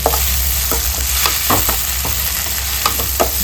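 Tomatoes sauté for chicken gravy in a hot pan with a steady close sizzle, while a spoon scrapes and taps through it in irregular strokes.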